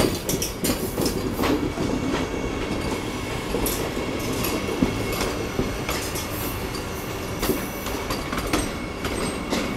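Vande Bharat Express (train 22448) passing on the New Delhi–Chandigarh line, a steady loud roar of rolling cars with rhythmic wheel clatter and faint squeals running throughout, no voices.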